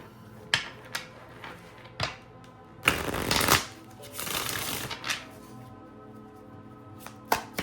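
Tarot cards being shuffled and drawn by hand: sharp flicks and slaps, then a loud riffling burst and a longer ruffle of card shuffling, close up and alone without talk.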